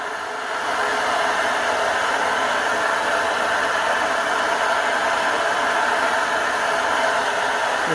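An MSR Dragonfly camping stove roaring at full power: a loud, steady, broadband hiss-roar that starts after a brief quieter moment and holds constant and close.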